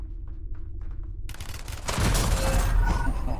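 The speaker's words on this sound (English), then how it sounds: "now I know the flashbang thing works" A flashbang grenade goes off in Call of Duty, a sudden loud blast about halfway through that swells into a bright, sustained roar over a background of distant gunfire.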